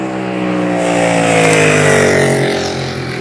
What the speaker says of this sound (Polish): Motory są fajne, bo jeżdżą szybciej